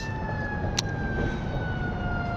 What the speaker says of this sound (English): Oh, got a siren coming.